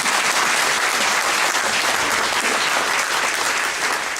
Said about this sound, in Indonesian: Mari kita aplaus untuk kemuliaan Tuhan.